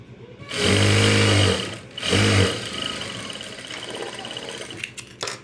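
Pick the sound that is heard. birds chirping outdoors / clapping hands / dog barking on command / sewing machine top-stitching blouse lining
sewing machine top-stitching blouse lining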